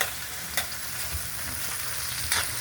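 Unripe tomatoes fry in a hot pan with a constant, close sizzle, broken by a few sharp scrapes of a spoon stirring them.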